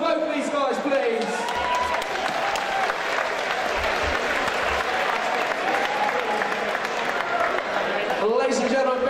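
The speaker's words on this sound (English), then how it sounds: "big round of applause for both of these guys" Arena crowd at a Contenders fight night applauds both fighters, steady loud clapping and cheering with a voice speaking over it throughout.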